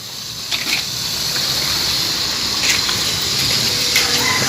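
Steady rushing gush of water filling a container, continuous and fairly loud with a few brief clinks over the flow.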